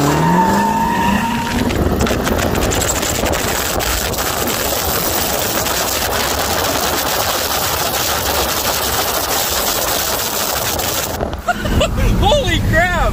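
Loud, sustained engine roar as a tuned 5.7 Dodge Challenger R/T and a 6.4 Dodge Durango SRT accelerate hard in a street race, hissing tire noise, revving for several seconds before cutting off abruptly; voices briefly at the start.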